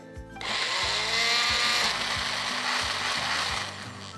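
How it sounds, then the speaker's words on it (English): A blender whirs loudly and steadily for a few seconds, close up, grinding freshly grated coconut and other coconut chutney ingredients after a brief quiet start. "So all of this goes into our blender and we are ready to blend it all together."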